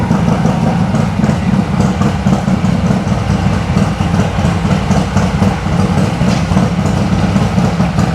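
Harley-Davidson M8 124 motorcycle engine arriving back from a test ride: a loud, continuous low rumble with a steady throb, close by and unbroken, with no voices over it.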